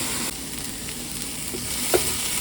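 Onions, peppers and garlic cook in a pan with a continuous soft sizzle and a few faint stirring knocks, close by and with no talking.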